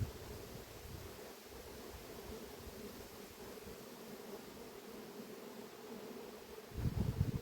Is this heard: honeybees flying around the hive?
yes